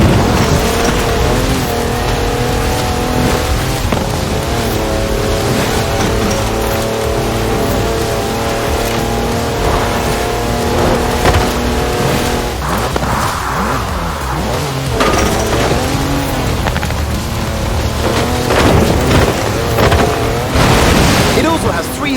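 A 340-horsepower car in Forza Horizon 4 drives hard, its engine droning and revving loudly and continuously with shifting pitch, mixed with music and game sounds throughout.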